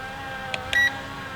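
A ZLRC SG906 Pro drone controller gives one short, clear electronic beep for its speed mode, heard close over a steady background hum after a faint click.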